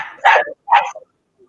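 A playful dog gives two loud, close barks followed by a short yip, with no talk.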